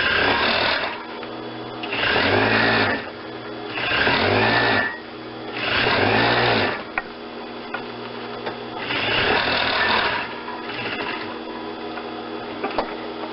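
A sewing machine stitches foam onto a nylon collar in several loud, close bursts of rapid whirring, with short pauses between runs and a few light clicks.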